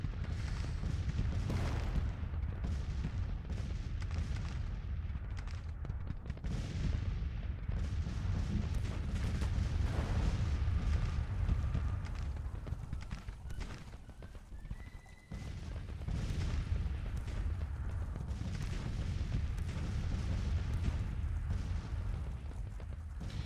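Artillery booms and scattered gunfire in the Civil War strategy game Grand Tactician, distant thuds mixed with a horse whinnying and hoof clatter over a constant low battlefield rumble.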